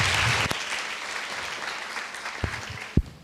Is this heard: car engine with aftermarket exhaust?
no